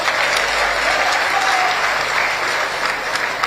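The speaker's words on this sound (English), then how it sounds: "Please, can we give him a round of applause?" Sustained applause from an audience at a live hangout event, steady broadband clapping filling the whole stretch without a break.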